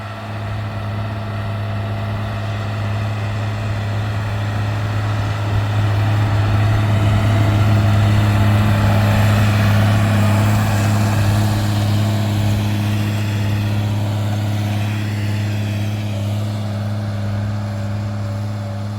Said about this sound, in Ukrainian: ну а так, трактор іде